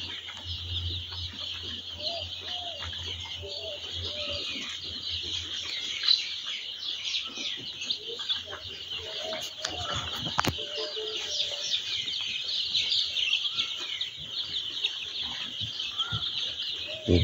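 Layer chickens clucking and chirping on a farm, a dense chorus of overlapping calls with a brief clatter midway, steady and fairly close, with faint voices in the background.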